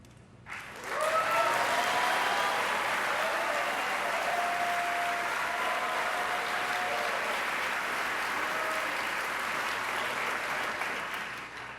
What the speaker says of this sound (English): If y'all could wait till I finish the names before y'all clap